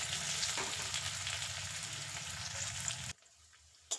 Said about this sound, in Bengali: পেঁয়াজটা হালকা লালচে করে ভেজে নেব।